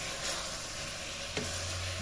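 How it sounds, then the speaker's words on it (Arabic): Chicken fries with onion in a pan, making a dense, continuous sizzle at close range. A single quick stir or scrape briefly breaks the steady hiss partway through. "من بعد ما تقلى لي الدجاج مزيان مع البصله"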